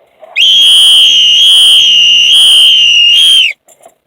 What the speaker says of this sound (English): Let me blow my whistle.